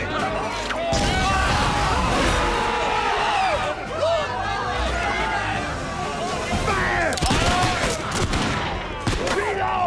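Chaotic battle scene with scattered gunshots and sharp impacts amid a shouting crowd, voices heard throughout over a loud, dense din.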